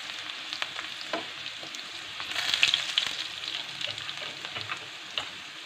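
Garlic fries in a pan with a steady, close sizzle and occasional stirring clicks, moderately loud and without talk.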